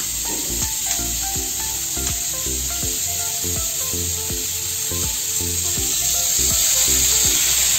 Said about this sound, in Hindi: अब इसको अच्छे से फ्राई कर लेना है